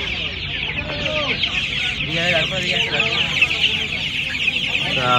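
A crowd of Australian-breed chicken chicks at the Uluberia poultry market keeps up dense, nonstop high peeping, loud and close, with a few lower clucks underneath.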